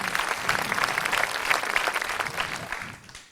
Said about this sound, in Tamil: அப்புறம் வந்து கோரஸ்க்கு பெரிய ஒரு கைத்தட்டல் கொடுக்கணும்.